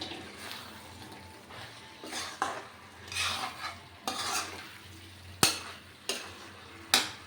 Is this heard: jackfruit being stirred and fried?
yes